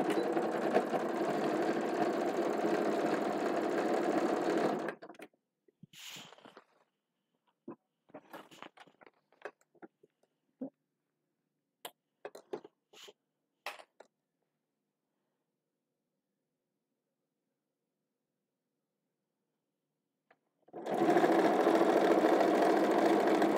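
A sewing machine stitches a fabric insert in two loud, steady runs, one at the start and one at the end. Between them are a long quiet gap and scattered small clicks and handling taps.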